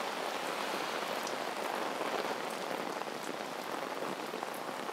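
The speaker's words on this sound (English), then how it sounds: "as you can hear and see," Heavy rain pours down steadily on a street in Geylang, Singapore, a dense, even hiss of drops striking hard surfaces close by, with no voices.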